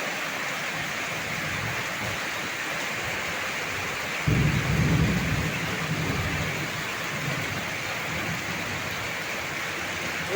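Heavy rain hisses steadily and evenly on a house with a leaking tiled roof, and a low, muffled thunder rumble swells briefly midway before fading back into the downpour.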